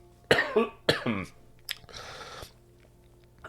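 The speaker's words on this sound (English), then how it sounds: "I may be coughing a little bit here" Two harsh coughs in quick succession, close and loud, followed by a raspy throat-clearing exhale, then quiet.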